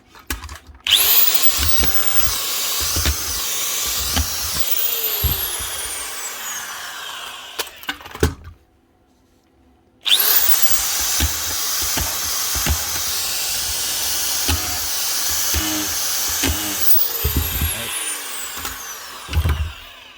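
Makita drywall screw gun motor with a 191L24-0 collated attachment, whirring loudly in repeated bursts, cutting out briefly midway, then spinning up again and running steadily.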